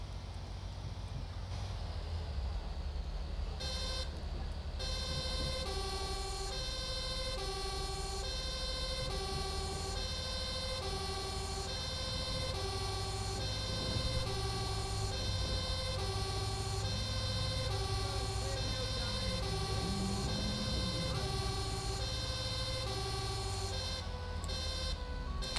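Layered emergency sirens, including a police siren, on a fire engine responding to a freeway car crash in GTA 5, with a steady loud wail and repeating tonal yelps held throughout.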